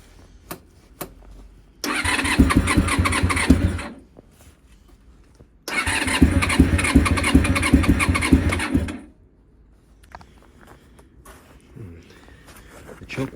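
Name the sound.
Honda VFR400 NC30 motorcycle engine cranking and trying to start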